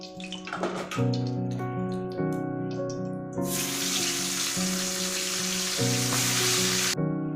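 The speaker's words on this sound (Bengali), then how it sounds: "মাছ ভাজা হয়ে গেছে" Pomfret fish frying in oil for a curry: a steady, bright sizzle rises partway through and holds for several seconds under melodic background music, then cuts off.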